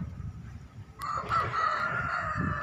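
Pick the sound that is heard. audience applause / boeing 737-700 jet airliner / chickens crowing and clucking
chickens crowing and clucking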